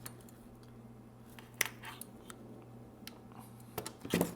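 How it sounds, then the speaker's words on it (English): A cable is cut at a switch during a DIY LED follower display build. A few crisp, close snips and clicks rise out of a quiet room, and no one speaks. "move the cable up and into position and cut it"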